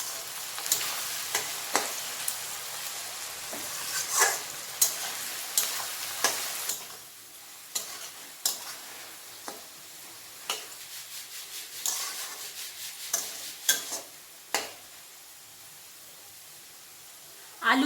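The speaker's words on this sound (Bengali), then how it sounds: "আলু পেঁয়াজটা ভালো করে ভাজা ভাজা হয়ে গেছে" Potato and onion fry in a pan with turmeric, a soft steady sizzle broken by repeated sharp scraping strokes of a spatula stirring them, close up with no talking.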